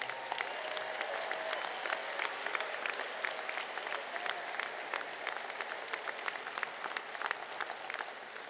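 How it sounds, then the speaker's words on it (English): Steady applause from a crowd at a high school graduation ceremony, sustained clapping throughout with no voices. "Could we please give a round of applause for the mothers and grandmothers in attendance?"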